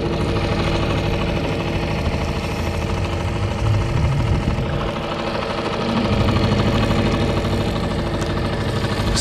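A steady, loud boat motor drones continuously, a mid-pitched engine hum that holds without pause throughout.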